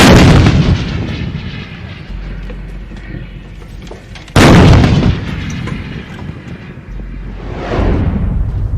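Extended range cannon artillery fires twice, each shot a thunderous boom followed by a long rolling rumble that echoes away, loud and close with no talk.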